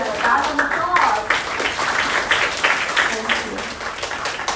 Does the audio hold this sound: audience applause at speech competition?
yes